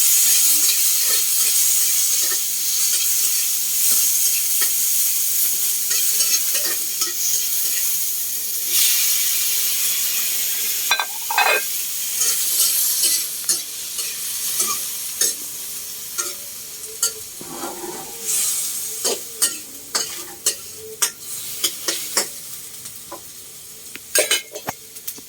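Filipino sarsiado cooking in a pan, with steady loud sizzling and hiss of frying throughout and repeated scraping, clinking stirs growing more frequent toward the end; no talk.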